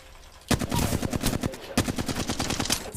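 Flatline assault rifle from Apex Legends firing full auto in two sustained bursts, rapid evenly spaced loud reports after a brief quiet start, with a short pause before the second burst.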